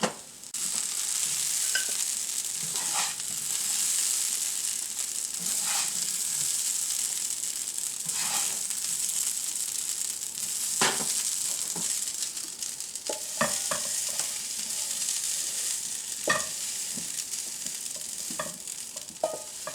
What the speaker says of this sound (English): I'll take these peppers and just spread them around. Let them cook there for a little bit longer